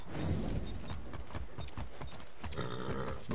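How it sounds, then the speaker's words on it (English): Horse hooves galloping in the video game Far Cry 6, a quick steady clip-clop rhythm close by and fairly loud, with no talk over it. "I'm gonna take this horse."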